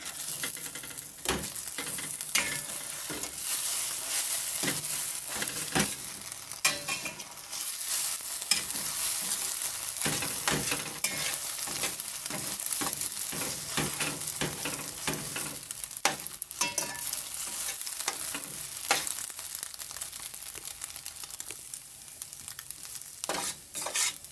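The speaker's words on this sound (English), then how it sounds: "Then give it a stir." Frankfurter and egg fried rice sizzles in a frying pan while being stirred, with continuous frying hiss punctuated by frequent scrapes and clinks of a utensil against the pan, close and loud with no talk.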